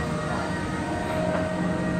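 A tram rolls past on a European city street, a steady broadband rumble of wheels and motor holding level throughout with faint tonal whine, no talk.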